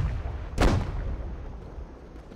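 A single heavy cannon shot booms from a sailing warship during a naval battle, a sharp close blast followed by a rumbling decay over low ambient noise.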